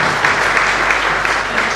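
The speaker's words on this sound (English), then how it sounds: "May I request all the members to give him a big applause to him." Members at a one-day tax conference on faceless assessment clap for a speaker: a thick, continuous wash of applause from a seated crowd, even and fairly loud from start to finish.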